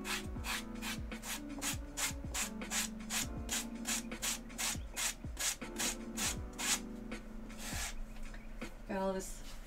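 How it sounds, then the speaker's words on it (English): Leather cosplay armor pieces for a Byleth costume being sanded along their edges, a quick repeated rasping rub in steady strokes, close and fairly loud, with faint background voices. "Yeah, I must have somehow not sanded this one."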